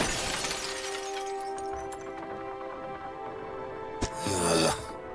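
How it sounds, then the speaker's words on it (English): A mirror face shatters in the video game Dredge: a sudden sharp crack and then a bright, ringing burst of breaking glass over a sustained eerie drone. "His face shatters and falls to the ground."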